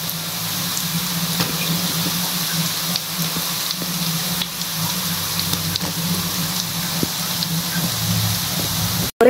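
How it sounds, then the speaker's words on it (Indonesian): A large batch of a crispy, cheap one-ingredient snack fries in hot oil over medium heat, giving off a dense, steady sizzle that runs unbroken throughout with no voices. "Kita goreng ya teman-teman, agak banyak juga gak apa-apa."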